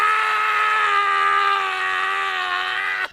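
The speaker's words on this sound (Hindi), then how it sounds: "नरेश और सुरेश को उदय की बस चीखें सुनाई दी" A man's long, steady, piercing scream in a haunted house, held at full loudness for about three seconds before cutting off abruptly.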